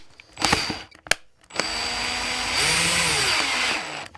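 A power drill spins against an RC car tire: a few sharp clicks and knocks, then a steady whirring motor that holds close and loud for about two and a half seconds before stopping.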